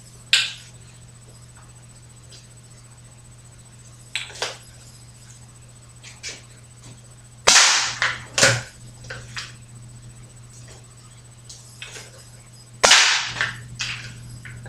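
Homemade chainmail-slug darts are blown from a mouth-held launcher, giving several sharp whip-like cracks at irregular intervals, two of them louder and closer, against a steady low hum with no talk.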